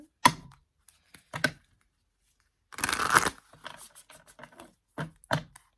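A deck of tarot cards being shuffled and handled, a few short riffling bursts and taps scattered across a quiet room, with one longer, louder riffle in the middle; close and crisp, no talking.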